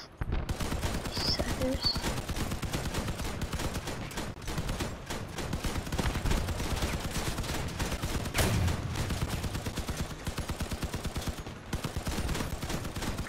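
Rapid, continuous gunfire from a vehicle-mounted gun in the game Crossout, a loud, sustained fusillade of fast repeated shots that runs almost without a break.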